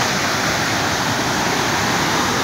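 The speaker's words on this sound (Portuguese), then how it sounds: "aqui na cachoeira" A loud, constant roar of heavily falling water from a waterfall swollen after floods and heavy rain in Porto União fills the whole clip, dense and unbroken.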